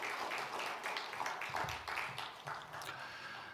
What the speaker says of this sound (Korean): 우리 다시 한번 뜨거운 박수로 축복하고 격려하겠습니다.